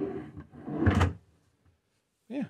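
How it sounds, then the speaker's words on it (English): A soft-close drawer in a Walker Turner drill press cabinet slides shut with a muffled rolling rush and a soft thud, followed by a brief quiet and a short voiced sound at the end. "Yeah, nice soft close drawers."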